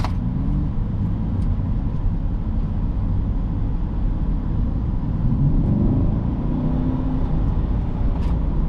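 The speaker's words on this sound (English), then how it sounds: "Oh yeah, that V8 sounds good." Chevrolet Corvette C8 V8 running steadily while the 2024 coupe drives, a low continuous rumble with no speech over it.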